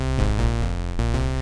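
Ableton's Drift synthesizer plays a loud preview of rich, sustained tonal chords that change pitch every fraction of a second with no pauses between them.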